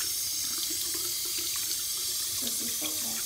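Tap water runs steadily into a sink as something is rinsed under the stream, a continuous close splashing flow with brief thuds and shifts near the end.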